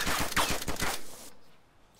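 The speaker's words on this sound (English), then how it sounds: "I just got majorly shot at." Rapid burst of gunfire in the DayZ video game, a dense rattle of quick shots lasting about a second before cutting off into quiet ambience.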